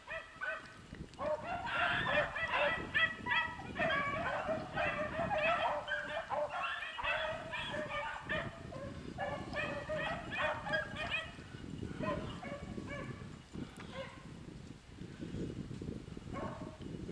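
A pack of beagles bays steadily while running a rabbit on a ranch, many overlapping howls and barks carrying from a moderate distance for the whole stretch, with faint talk underneath.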